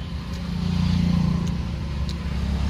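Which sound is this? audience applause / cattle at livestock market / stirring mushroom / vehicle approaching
vehicle approaching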